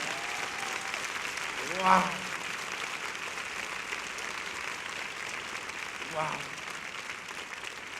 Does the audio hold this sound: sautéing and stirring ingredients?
no